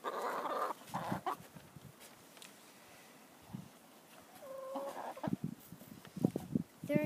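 Chickens clucking near their food and water on a farm, with scattered short clucks and calls at low volume, some louder bursts toward the end, and faint talk now and then.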